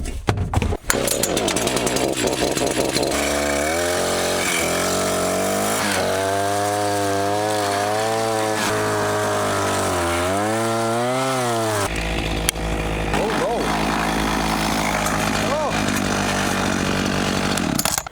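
Chainsaw fitted with a debarking attachment, spinning loud and close, its engine drone holding steady, then rising and wavering in pitch mid-way before settling back into a continuous roar.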